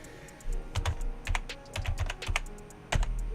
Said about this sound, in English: I'll type it in here right now